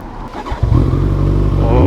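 A ZZR motorcycle engine revs up hard and close, a loud rising rumble that settles into a steady high drone after a brief lower idle.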